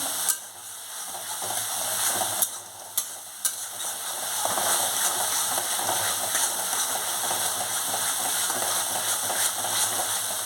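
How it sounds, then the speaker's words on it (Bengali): Bengali-style spice paste frying and being stirred in a pan, a steady close sizzle with spatula scrapes and a few brief sharper clatters, no voices. "মশলাটা ভালো করে কষতে হবে নাহলে গন্ধ আসবে"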